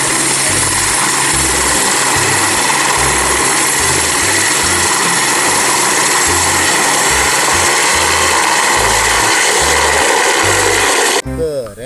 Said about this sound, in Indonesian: lihat teman-teman, di sini ada pesawat helikopter